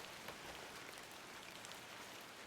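Steady rain falls in a point-and-click adventure game, a soft, even hiss of drops pattering on surfaces, faint and unbroken with no voices.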